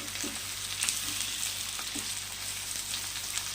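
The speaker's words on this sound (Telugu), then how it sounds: "ఈ పుదీనా, కొత్తిమీర కూడా చక్కగా మనము దోరగా ఫ్రై చేసుకుందాము" Mint and coriander leaves fry steadily in hot oil for chicken semiya, a continuous close sizzle with faint stirring touches and no talk.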